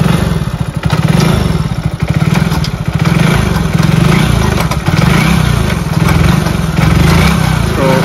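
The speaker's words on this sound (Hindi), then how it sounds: "तो राहुल इसको स्टार्ट करो एक बार, और ये स्टार्ट हो चुकी है एक ही किक में।" Hero HF Deluxe BS6 2022 motorcycle engine running right after a kick start, a loud, steady, close-up chugging idle with rapid thumping pulses and some clatter throughout.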